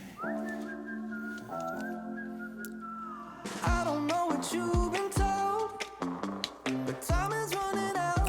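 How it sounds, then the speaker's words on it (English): A melodic whistled tune in a song, sustained notes at first, then joined by a bouncy beat and guitar, with the whistling continuing on top. "Little whistle."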